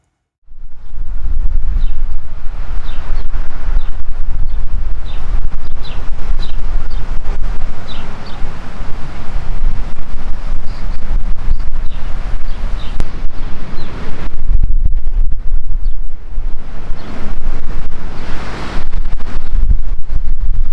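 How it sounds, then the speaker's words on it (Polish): Strong gusty wind buffets the microphone with a loud, continuous roar, rising and falling throughout, no voices heard. "zerwał się straszny wiatr"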